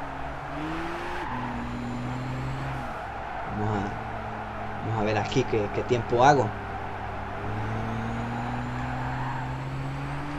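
Nissan GT-R in Gran Turismo 6 power sliding in third gear, steady engine drone with a brief warbling tire squeal midway, while someone talks in Spanish over it.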